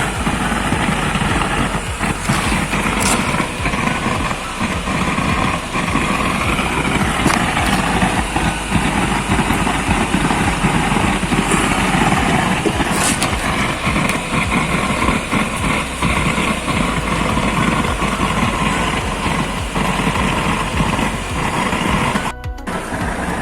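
A small gas burner with a brass cap nozzle roars steadily and loudly at close range, a constant broadband rush with a low rumble that runs without a break for the whole stretch.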